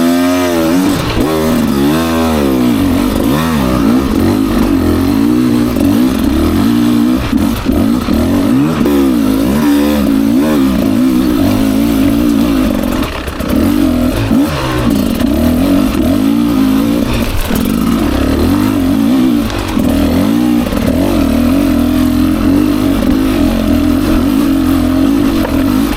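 A 2024 Beta 300 RR Race Edition two-stroke dirt bike engine revs continuously on a single track trail, loud and close, its throttle rising and falling throughout with no talk.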